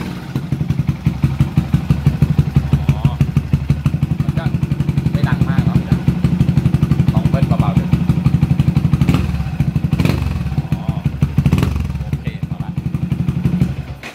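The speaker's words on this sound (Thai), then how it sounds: "เดี๋ยวเรามาฟังเสียงท่อกันดีกว่า" A Yamaha MSlaz 180cc touring motorcycle with an aftermarket exhaust idles close by in a steady, rapid low-pitched putter, with a few throttle blips partway through and people talking over it.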